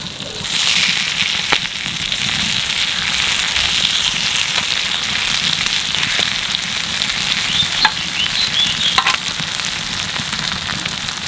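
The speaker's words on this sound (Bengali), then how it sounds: "মাছ ভালো করে ভাজা হয়ে গেছে" Tiger prawns frying in hot oil give a loud, steady sizzle with scattered pops and crackles for the whole stretch, close up and heard alone.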